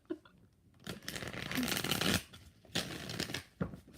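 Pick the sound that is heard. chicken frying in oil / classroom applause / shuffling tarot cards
shuffling tarot cards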